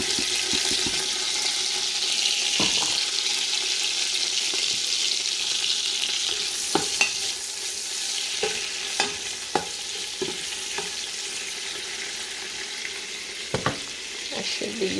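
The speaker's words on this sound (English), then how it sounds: "Okay, the oil has heated up a bit. Let's add onions." Onions frying in hot oil for okra soup give a loud, continuous hissing sizzle, broken by occasional spoon knocks and clicks against the pot.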